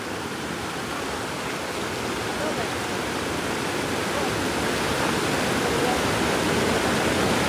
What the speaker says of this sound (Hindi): अभी यार बहाव ज्यादा है